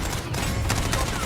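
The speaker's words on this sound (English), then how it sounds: "We're all just shooting up in the air." Video game gunfire as players fire their weapons into the air after a battle royale win: dense, overlapping bursts of shots mixed with excited voices, loud and continuous for a brief moment.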